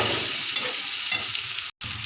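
Jackfruit pieces get stirred through masala in a hot pan, producing a continuous sizzle with soft scraping strokes and a brief moment of silence near the end.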